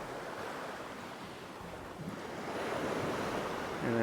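Waves wash steadily onto coarse sand at Tanot Beach on Koh Tao, Thailand, a continuous surf roar with some wind buffeting, swelling slightly toward the end.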